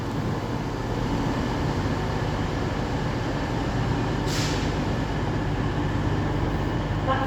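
A Class 171 Turbostar diesel unit rumbles steadily at a Nottingham station platform, a continuous close engine and wheel drone with a brief hiss of air midway.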